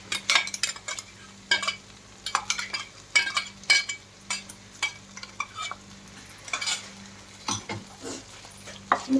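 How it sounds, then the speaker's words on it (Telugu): Spicy tomato rice mixture being stirred in a pan, a spoon scraping and clinking against the metal in irregular strokes over a faint sizzle, close and fairly quiet. "మొత్తం కలుపుతూ ఆయిల్ పైకి తేలేలా దీన్ని అడుగంటకుండా కలుపుతూ ఉండాలి."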